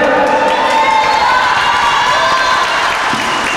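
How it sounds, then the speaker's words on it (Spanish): A large crowd in Tijuana applauds and cheers continuously, a dense, loud wash of clapping with scattered shouts throughout. "Y un aplauso fuerte."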